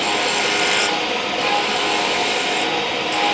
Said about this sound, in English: So I'll put my spindle roughing gouge on the tool rest, and I'll start from just about 1 inch in and move to the outside.